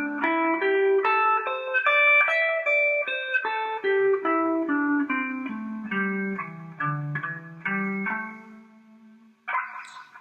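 Electric guitar plays a melodic minor pentatonic line in a common scale shape, single notes stepping downward with light distortion and reverb, clear and close, ending with a brief scrape.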